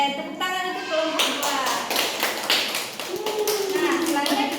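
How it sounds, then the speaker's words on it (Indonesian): A fourth-grade class claps for a student group in a classroom, a short burst of scattered hand claps overlapping with a teacher's voice and children's chatter. "tepuk tangan untuk kelompok"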